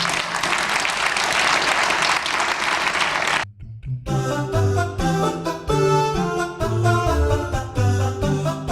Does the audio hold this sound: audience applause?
yes